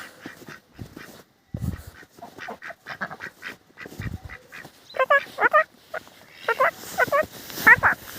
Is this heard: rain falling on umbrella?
no